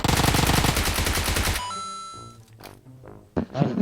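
Automatic gunfire in the mobile battle-royale game PUBG Mobile: a loud, rapid, evenly spaced burst of shots for about a second and a half, then quieter ringing tones and scattered in-game thuds.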